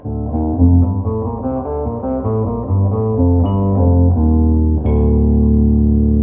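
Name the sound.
Rhodes electric piano sound with octave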